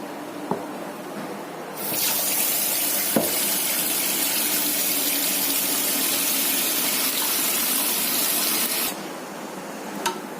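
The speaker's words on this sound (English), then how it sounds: "Now let's remove the water from this tumbler." Water pours steadily out of a tumbler in a continuous splashing stream for several seconds, with faint clinks before and after.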